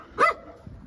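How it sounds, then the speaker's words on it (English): A guard dog gives a single short, sharp bark at a work site, loud and close, followed by quiet. "Guard dogs are out, in force."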